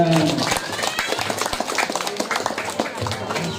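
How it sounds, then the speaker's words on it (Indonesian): Students at an Islamic boarding school clap together at a teacher's prompt, a loud burst of uneven hand claps with voices mixed in, tapering into lighter scattered claps. "Oke, tepuk tangan."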